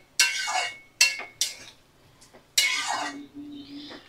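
A spoon scrapes and clinks against a pot as Malabar spinach curry is stirred after water goes in, in several sharp bursts of metal contact with short pauses, close and clear, with no talking.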